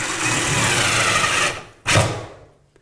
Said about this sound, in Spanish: voy a quitar esto y luego a poner este tornillo hasta el fondo